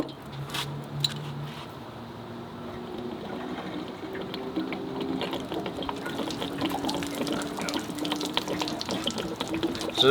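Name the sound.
water draining from RV hot water heater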